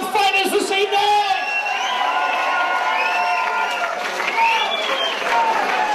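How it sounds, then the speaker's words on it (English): A large crowd at a fight event for two fighters, Matt Howard and Graham Foley, bursts into loud, continuous applause and cheering, with whoops and shouts rising throughout. "let's have one big round of applause for both fighters this evening!"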